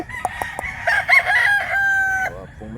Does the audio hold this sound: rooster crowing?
yes